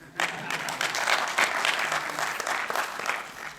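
An audience at a Hindi/Urdu poetry recital breaks into applause, a dense burst of clapping that rises quickly and holds fairly loud before tapering slightly, with no speech over it.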